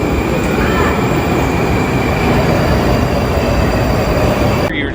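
A Moscow metro train rumbles loudly and steadily through a station, with a high-pitched whine riding over the constant roar of wheels and motors.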